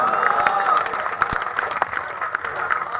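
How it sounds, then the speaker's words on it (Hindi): An audience at an Indian poetry mushaira breaks into short bursts of clapping and crowd noise from a packed hall. The applause sounds moderately loud, and a poet's voice talks over it. "कुछ कम तालियां हैं आपकी,"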